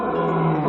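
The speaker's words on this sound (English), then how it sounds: "While the male is a lion, the female is called a lioness." A lion roars once, loud and close, a single sustained rough roar filling the moment without any voices.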